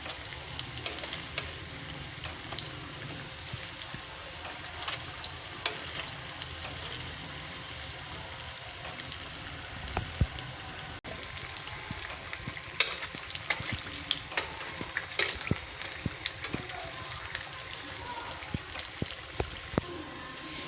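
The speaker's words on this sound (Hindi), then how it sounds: "दरमियानी फ्लेम पे इसको फ्राई करना है।" Chicken rolls fry over a medium flame, a steady soft sizzle with scattered crackles and pops running throughout, fairly quiet and close with no talking.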